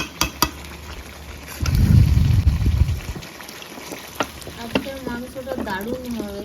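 Water is poured into a pan of frying chicken for a village-style chicken and potato curry, setting off a brief burst of bubbling sizzle lasting under two seconds amid light clatter, with a person talking afterward.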